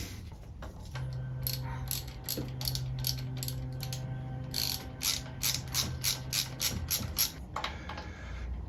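A hand ratchet clicks steadily as it turns a bolt on a new tensioner and pulley on a 1998 Corvette C5 engine. The close, sharp pawl clicks come in quick runs with brief pauses, with no voices.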